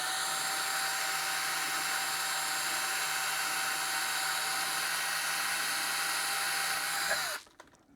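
A steady, high-pitched drill whines continuously for about seven seconds, then spins down and stops.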